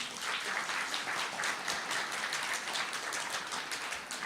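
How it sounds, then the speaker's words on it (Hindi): Continuous clapping from the audience at a Hindi-language Brahma Kumaris spiritual lecture, a dense, even patter of many hands filling the hall with no talk over it. "तालियां तो बजाओ जरा"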